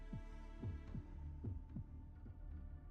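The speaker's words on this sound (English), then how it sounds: "Is it just me, or does it sound like the castle has a heartbeat?" A heartbeat pulses inside a castle in the video game Fate/Grand Order, with steady double thumps repeating several times over a constant low hum. The beats sound close and solid.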